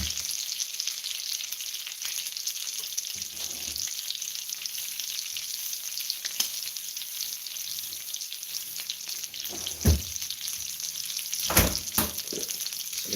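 Sisig sizzling and frying in a pan for a home-cooked breakfast, a continuous bright crackle heard close up, with a few louder pops and clatters of stirring near the end and no talking.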